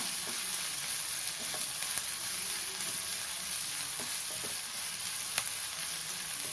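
Onions sauté with salt in a pan for a spicy red chilli dal, giving a steady, even sizzle with a few light clicks of stirring throughout.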